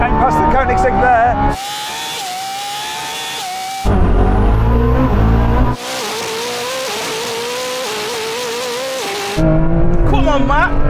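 Koenigsegg Jesko, Lamborghini Revuelto and a 1,000hp BMW M3 drag racing, loud engines roaring and rising through gear changes from launch, with abrupt shifts between in-car and trackside perspectives.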